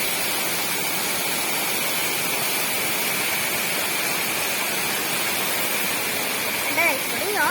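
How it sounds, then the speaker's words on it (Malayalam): Steady, close rushing of a small waterfall at Vazhani dam park, a dense continuous roar of water that holds level throughout, with a brief warbling voice-like sound near the end. "ഒരു കുഞ്ഞു വെള്ളച്ചാട്ടം."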